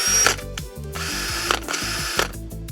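An old DeWalt cordless drill fitted with a new battery spins up in several short, loud whirring bursts, each stopping and restarting in quick succession.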